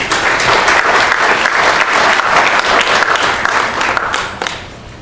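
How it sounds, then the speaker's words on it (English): An audience applauds a college's academic dean, a dense, steady clapping that holds loud for several seconds and then thins out near the end. "Applause for an academic dean is both a very rare and wonderful thing"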